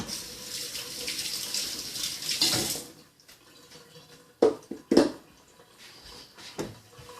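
Tap water runs steadily into a sink while a milk filter holder is rinsed, then shuts off after a few seconds, followed by a few clanks and small handling knocks.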